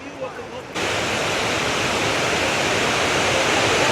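A well-known Icelandic waterfall roars loudly and steadily after a quieter opening moment, a broad, continuous wash of crashing water close by.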